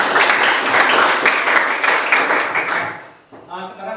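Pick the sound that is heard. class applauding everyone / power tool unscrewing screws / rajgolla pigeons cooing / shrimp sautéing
class applauding everyone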